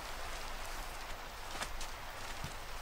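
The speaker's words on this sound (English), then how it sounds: "Oh my god, when will it stop raining?" Steady rain falls throughout, a dense even hiss of drops with a few slightly louder patters, at moderate level with no voices.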